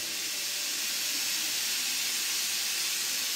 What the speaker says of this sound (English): Steam is getting condensed.